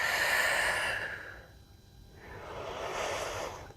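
Deep breathing during a strength and mobility workout, a long audible exhale followed by a slower, softer inhale, close and fairly faint.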